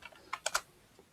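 A few quiet keystrokes on a computer keyboard as a drug name is entered, four or five soft clicks in a short burst, close and faint with no talk.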